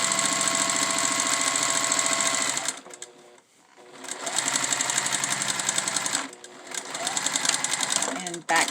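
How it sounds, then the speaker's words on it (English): Sewing machine stitching down the edge of a fabric face mask seam, a loud steady mechanical whir running in long bursts with two brief pauses between runs, with voices heard alongside. "Turn it again to where you sew down that edge, catching the thread at the end"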